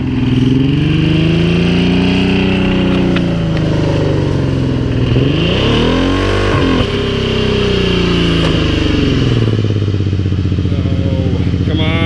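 A loud car engine revs hard and continuously during a tire burnout, its pitch swooping up and down through repeated throttle bursts, with a rough, sustained roar throughout.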